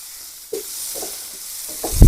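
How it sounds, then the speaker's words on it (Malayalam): Turmeric powder stirred in hot oil in a pan, a soft hiss of frying under a few scraping stirs of the spoon, ending in a louder knock against the pan. "ഇതൊന്ന് നന്നായിട്ടൊന്ന് ഇളക്കി ഇതിൻ്റെ പച്ചമണം മാറുന്ന വരെ"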